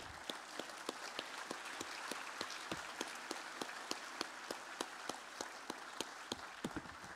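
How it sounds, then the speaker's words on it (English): A standing ovation at a church general assembly: a crowd claps in a steady, even rhythm, moderately distant, with faint murmuring beneath. "Let's give these gentlemen, our own, a standing ovation"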